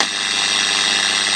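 Broadband hiss and buzz from the IF amplifier of a homemade superheterodyne radio, steady and fairly loud across the whole moment a finger touches the first transistor's base, with no talking.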